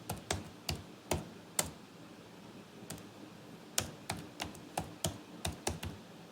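Someone types item names into an Excel spreadsheet on a computer keyboard, producing irregular bursts of crisp, close keystrokes in a quiet room with no talking.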